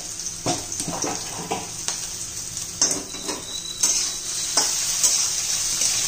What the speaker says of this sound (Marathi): आता आपण चिरलेला बटाटा आणि मिरची घालून घेऊ, चांगले परतून घ्यायचे।